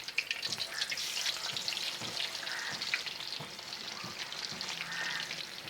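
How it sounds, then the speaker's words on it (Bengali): Potato pieces fry in hot oil for chicken biryani, giving a steady, dense sizzle with scattered crackles and pops, close and continuous with occasional stirring scrapes and no talk. "তুই আলুটা ভেজে ফেলবি এই তেলে"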